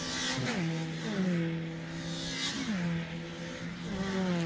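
Mini Cooper race cars on the last lap of a Scottish Mini Cooper Cup race, several engines revving and shifting gears in repeated rising pitch sweeps, moderately distant, one after another.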